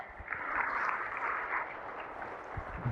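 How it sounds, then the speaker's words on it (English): A modest burst of applause, steady clapping from a small group at moderate distance at a live summit event in Miami, fading slightly toward the end. "Give me a round of applause for that."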